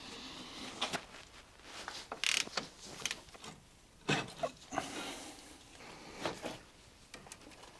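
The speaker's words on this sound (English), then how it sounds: "Next up, I will undo the brake caliper." Metallic clicks, creaks and ratcheting from wrenching off the brake caliper on a Renault Twingo Mk1 during front wheel bearing work, a series of short irregular tool sounds, fairly faint, with no talk.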